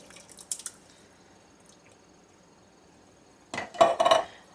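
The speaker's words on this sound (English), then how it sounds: "just make sure you scrape out the bottoms of your cans" A spoon scraping Italian-style diced tomatoes from a 14.5-ounce can into a soup pot for stuffed pepper soup: a few faint clinks early, then a loud, close burst of wet metallic scraping and plopping near the end.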